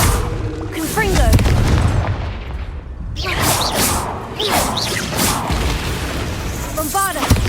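Confringo fire spell in Hogwarts Legacy: whooshing fiery blasts with booming impacts, layered with game voices and effects, loud and repeated through the stretch.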